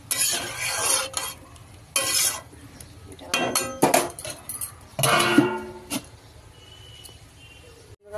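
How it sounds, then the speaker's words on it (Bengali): Bursts of crackling sizzle as mustard seeds and dried red chilies fry in hot oil, with occasional clinks of a utensil against the pan. "তেলের মধ্যে আমি সর্ষে আর শুকনো লঙ্কা ফোড়ন দিয়ে দিয়েছি।"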